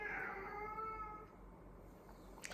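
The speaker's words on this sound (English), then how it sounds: "Excuse my Charlie cat" An elderly, partly deaf cat meows loudly indoors, one drawn-out, wavering call that fades out, followed by quiet room sound.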